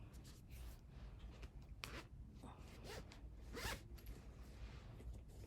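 A zipper on a sewn fabric pouch rasps back and forth in several short pulls, close and fairly quiet, with faint rustling of the fabric between strokes.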